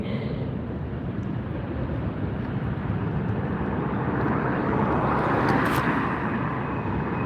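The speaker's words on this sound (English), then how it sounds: "here comes the KLM Orange Pride. It's on the move" The KLM Orange Pride airliner moves at Los Angeles airport, a broad, steady jet roar at moderate distance that swells gradually toward the end, with no talk.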